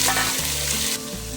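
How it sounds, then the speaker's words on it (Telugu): Chicken frying in hot oil with whole spices for mint chicken pulao, a loud close sizzle with a brief stirring clatter and a low steady hum beneath, no talking. "అవి బాగా ఫ్రై అయిన తర్వాత అందులో మనం కొద్దిగా చికెన్ వేసుకుందాము"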